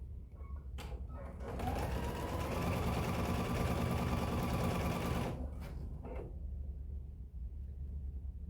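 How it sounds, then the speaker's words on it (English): A sewing machine running a 1/8-inch seam around three edges of a pocket bag, wrong sides together: a couple of brief clicks, then a steady close hum of stitching for about four seconds before it stops and quiet handling follows. "I'm just sewing 1/8 all the way around my 3 sides"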